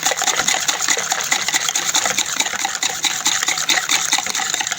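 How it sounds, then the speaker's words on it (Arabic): A cup of milk poured into cake batter made with eggs, sugar, ghee, oil and vanilla, a close, steady gurgling liquid splash running continuously throughout. "هنحط بقى هنا اللبن، كوبايه لبن"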